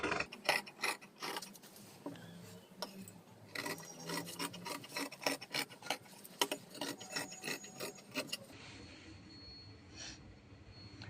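Scissors cut through blouse fabric in a home tailoring lesson, a dense run of rapid rasping snips and crisp clicks close by that goes on for about eight seconds, then a few slower snips toward the end.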